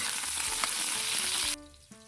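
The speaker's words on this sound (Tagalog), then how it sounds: "manggigisa na tayo. Lagay tayo ng mantika. Natin yung bawang sa sibuyas." Garlic and onion sautéing in cooking oil, a loud, close, dense sizzle that cuts off sharply near the end, leaving a faint tonal hum.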